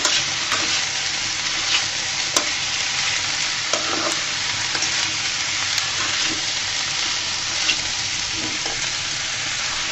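Radish greens and chopped radish fry in a pan with salt, a constant close sizzle under repeated scraping and clinking of a spatula as they are stirred.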